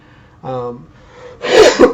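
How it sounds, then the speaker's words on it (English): A single rough cough bursts out at close range from a man with a persistent cough, preceded by a brief voiced sound and a quieter breathy stretch. "Sorry about the cough again."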